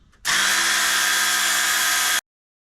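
A belt sander grinds the head of an Estwing Timber Titan 16-inch splitting maul, starting abruptly with a loud, steady, harsh whine that holds for about two seconds and then cuts off sharply.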